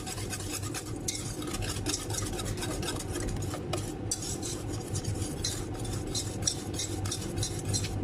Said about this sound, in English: make sure to keep on stirring it, so we don't want to have a scrambled egg